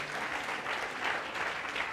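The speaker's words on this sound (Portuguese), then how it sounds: "Dale un aplauso a Jesús" A church congregation applauding, a soft, steady wash of many hands clapping at a moderate distance with no voices.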